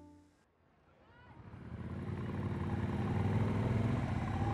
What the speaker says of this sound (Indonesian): Saat suara motor usang Gilang turut merapaikan bisingnya jalanan